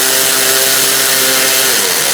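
A power tool tightening the starter bolt on a 2002-2006 Honda CR-V, giving a loud, steady mechanical whir with a constant pitch that runs unbroken for about two seconds, close by, with no talk.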